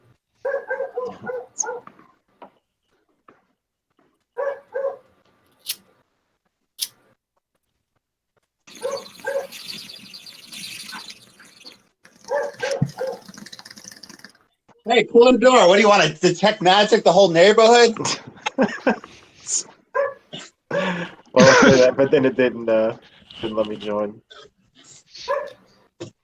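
A dog barks and yips in short bursts outside, mixed in among several people talking and laughing nearby.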